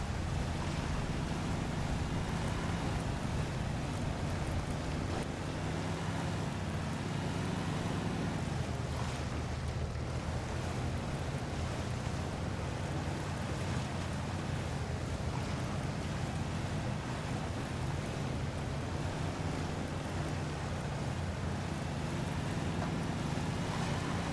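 Truck ploughing through a lake in the Mudrunner off-road game, a constant loud wash of churning water and low engine rumble that barely changes, with no talking.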